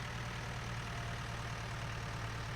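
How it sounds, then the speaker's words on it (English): An old tractor engine in Farming Simulator 19 runs with a steady, low, throbbing drone, unchanging and fairly close, with no other sounds. "The old tractor did great there."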